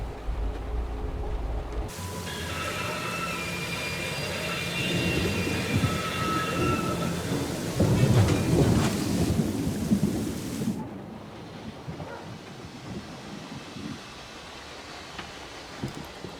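Heavy rain pours steadily in a thunderstorm in the video game Syberia: The World Before, with a long rolling thunder swell building through the middle before easing back to softer rainfall.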